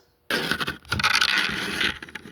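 Scraping, grinding mechanical noise up close, starting abruptly and continuing for about two seconds with uneven bursts, as screws are driven into a wooden subwoofer speaker box.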